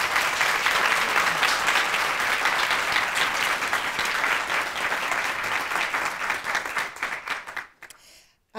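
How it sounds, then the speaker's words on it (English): A crowd applauds survivors with dense, sustained clapping that holds steady for several seconds, then thins and stops abruptly. "give everybody a round of, those wonderful survivors a round of applause and a welcome back"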